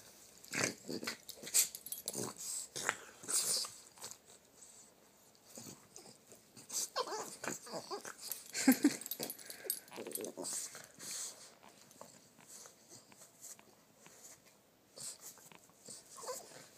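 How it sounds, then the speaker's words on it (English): A Boston Terrier chewing nervously on a blanket indoors, giving soft irregular gnawing, snuffling and fabric-rustling sounds with occasional small whimpers, heard close while people talk over it at times. "So now she's nervously chewing on the blanket."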